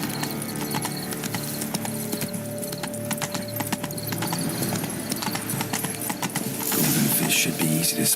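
Horse hooves clip-clopping at a steady trotting rhythm while riding in the video game The Witcher 3, close and continuous with faint jingling tack, swelling louder near the end.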